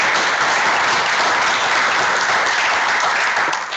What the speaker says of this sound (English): it's good to end something like this with a round of applause for all the folks who did that